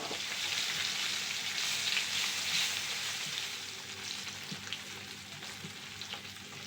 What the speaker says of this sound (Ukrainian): А тим часом я нарізаю сало і обжарюю